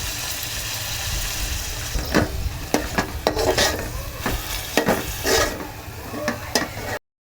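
Ginger-garlic paste fries in a pan, a low sizzle broken by repeated scraping strokes of a spoon stirring it, close and fairly loud, with no speech until it cuts off at the end.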